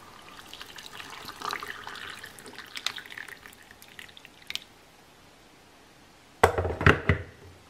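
Hot water is poured over dates in a bowl to soak them, a soft trickling and splashing close by that fades to quiet before a brief louder burst of pouring near the end, with no voices.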